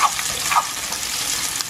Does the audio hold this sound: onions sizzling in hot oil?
yes